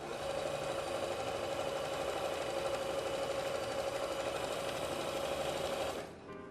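A sewing machine stitches a fabric table runner in one steady, continuous run of rapid mechanical whirring for about six seconds, then stops abruptly, close by with no talking.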